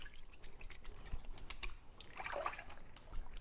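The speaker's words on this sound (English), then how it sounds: "I'm just going to rinse my hands" Hands rinsed under running water after working with Tjhoko chalk paint and clear glaze: a faint, steady trickle and splash with small clicks and knocks scattered through, close and alone.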